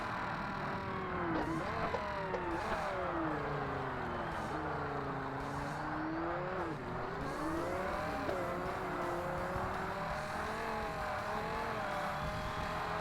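Race car engine in the Forza Motorsport driving game, a steady loud drone that rises and falls in pitch through gear changes and corners, continuous throughout with no talk.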